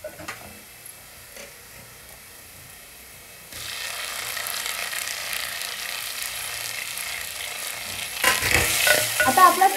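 Onions fry in a pan until reddish-brown, a quiet sizzle with stirring clicks that swells louder partway through and grows busier near the end, with no voices.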